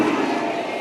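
A dense crowd at an Islamic religious gathering in Klaten, Indonesia roars and cheers loudly in unison as a greeting, a brief, sustained, close wall of shouting voices.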